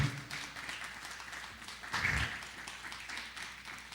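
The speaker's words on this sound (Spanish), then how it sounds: "Alguien le da un aplauso al Señor." Church congregation applauding during a Spanish-language sermon, a soft, fairly distant wash of clapping with a brief louder swell in the middle.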